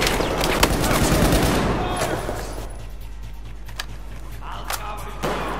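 Battlefield 4 gunfire on the Kunlun Mountains level: a loud burst of rapid shots at the start, then scattered fainter shots over a low rumbling backdrop, with someone talking in places.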